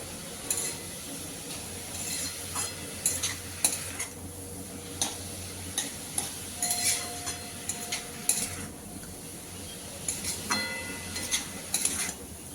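Cabbage with turmeric stirred in a frying pan, a spoon scraping and clacking in repeated strokes over a steady sizzle, close and fairly loud, with no talking.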